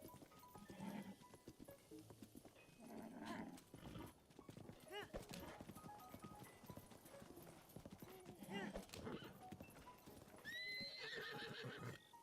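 Horse in the Zelda Breath of the Wild video game, with hooves clip-clopping at a walk and a whinny, mixed with game music chimes while people talk over it.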